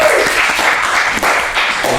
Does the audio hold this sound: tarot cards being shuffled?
no